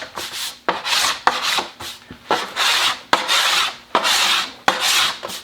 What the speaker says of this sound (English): cutting on various angles, or scraping on various angles.